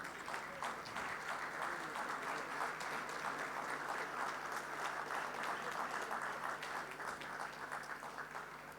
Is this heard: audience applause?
yes